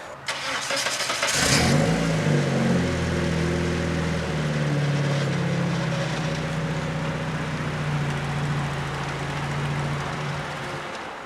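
An Eclipse car engine cranks and starts, then runs at a steady idle with slight revving as the vehicle moves, close and fairly loud.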